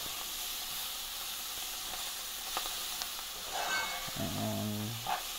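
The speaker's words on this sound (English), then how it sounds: "So we're gonna quick stir it up." Seasonings being stirred into mint, cilantro and spring onion in a hot pan for green rice, giving a steady close sizzle with brief scraping strokes and a few clinks near the end.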